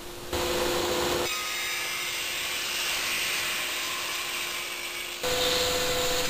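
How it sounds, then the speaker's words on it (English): A power saw rips recycled IKEA shelving into strips in one sustained, loud cut lasting a few seconds, with the motor idling before and after. "I start by cutting some recycled IKEA shelving into strips"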